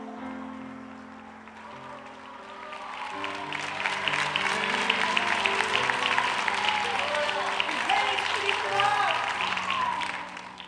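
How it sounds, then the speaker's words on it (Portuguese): Congregation applauding during a church worship service, a broad wash of clapping that swells after the first few seconds and holds steady, with sustained musical tones and some voices underneath. "As palmas louvem ao nosso Senhor."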